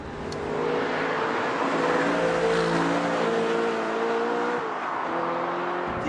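Audi R8's mid-mounted V8 revs hard, a loud, steady engine note rising in pitch with a shift or lift near the end, heard close and without talk.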